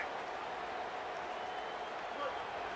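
Steady roar of a football stadium crowd cheering on the defense during a red-zone stand, a dense continuous wash of voices and applause with no distinct breaks.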